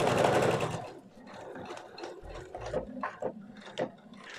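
A sewing machine stitches a folded fabric band about 1 cm from the edge while sewing a beginner's wrap skirt, a steady close mechanical whirr fading into uneven rattling stitches.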